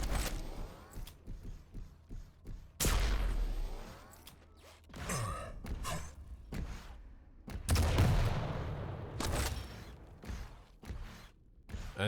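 Rocket launcher fire and explosions in an arena shooter duel, several sharp bursts and whooshing blasts scattered irregularly, loud and close, with game effects in between.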